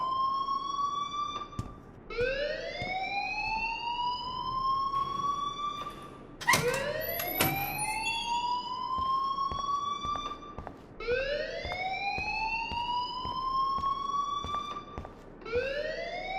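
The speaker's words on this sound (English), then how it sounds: "please turn off that alarm since that's your job" A school alarm in the video game Life Is Strange wails in rising, repeating siren sweeps about every two seconds, loud and continuous, with a brief sharp sound midway and no talk.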